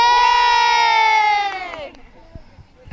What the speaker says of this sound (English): we'll do a big cheer practice for when Daddy comes